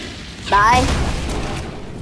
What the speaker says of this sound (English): I'm just gonna leave a little explosion for them.